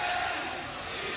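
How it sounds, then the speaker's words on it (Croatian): Fans in an indoor futsal hall chanting a countdown near the end of a 1991 Yugoslav championship final, a dense, steady crowd roar heard from a distance and filling the whole moment. "Ponovo odbrojavanje navijača."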